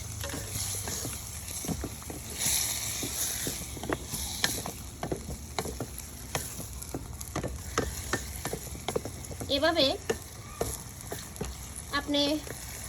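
Goat meat with chili fries on a clay stove with a steady, close sizzle and scattered clinks and scrapes of stirring, while a person speaks briefly.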